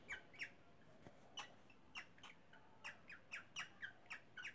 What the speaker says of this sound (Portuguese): Eu queria entender por que minha calopsita faz esse barulho.